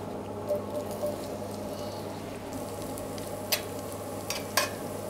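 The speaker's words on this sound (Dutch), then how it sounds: "Mooi zachtjes laten pruttelen." Chopped tomato simmering gently in butter and garlic, a soft low crackle and patter that runs steadily throughout, with a few sharp faint clicks near the end and no voices.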